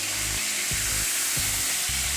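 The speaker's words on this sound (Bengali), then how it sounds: "এবারে মাছটা আমি ভালো করে লাল করে ভেজে নেব।" A 250-gram rohu fish frying in hot oil in a wok, giving a loud, steady, close sizzle with a pulsing low hum running underneath, no voices.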